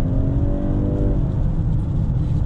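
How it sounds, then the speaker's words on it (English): The gas engine of a 2020 Honda CR-V Hybrid accelerates hard in sport mode from inside the cabin: a loud, continuous droning roar with a rising tone in the first second, settling into a steady strain with no talk. "when you floor it, you hear that gas engine kick on, and it's got a good amount of punch"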